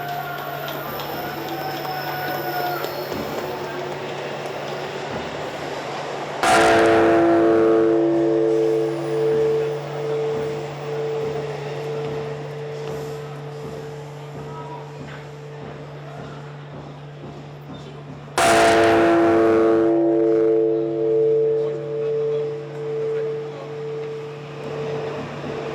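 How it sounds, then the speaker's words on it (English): A large Buddhist temple bell at Tokudaiji in Tokyo is struck twice at midnight on New Year's Eve, each strike a heavy clang that blooms into a long, humming resonance over a low steady background drone. "crowds have gathered on the grounds of the Buddhist temple at Tokudaiji for the bell to strike"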